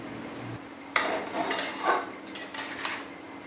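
Raw chicken pieces go into a cooking pot of softened onions for an Indian chicken stew, bringing a handful of close clinks and clatters of metal against the pot, spaced over a few seconds with no talking.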